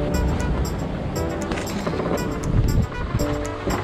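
Ocean waves rush and wash around a Mini Transat racing sailboat at sea, a close, steady surge mixed with wind buffeting and rhythmic creaks from the boat.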